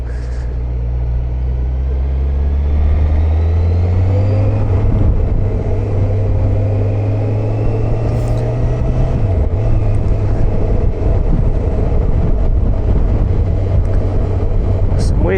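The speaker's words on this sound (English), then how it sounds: "Some weird noises coming from this bike" Honda CBF1000 motorcycle riding along, a steady engine drone with a low rising and falling tone as it changes speed, loud and continuous with wind noise over it.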